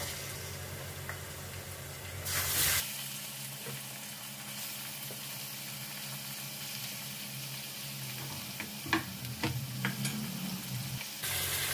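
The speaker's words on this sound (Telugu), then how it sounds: "ఉల్లిపాయలు వేగిపోయినాయి, ఇందులో నుంచి చికెన్ పీసెస్ వేసుకుంటున్నాను" Chicken pieces going into a pan of fried onions for a chicken gravy curry, a steady close sizzle with stirring scrapes and a loud burst as the pieces hit the hot oil.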